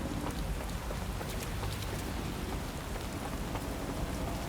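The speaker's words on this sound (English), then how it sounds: "Pretty cool how people are actually moving faster in the rain." Rain falls steadily in the video game Watch Dogs Legion, a constant dense hiss of drops spattering on surfaces throughout, evenly loud with no voices over it.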